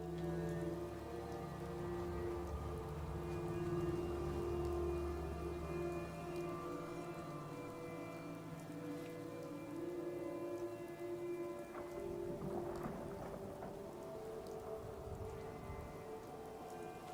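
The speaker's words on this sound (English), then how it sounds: "I never noticed the rain on a tin roof sounds" Rain beats on a tin roof during a thunderstorm in Fallout 4, a continuous dense patter with low rumbling thunder swelling in the background toward the latter half.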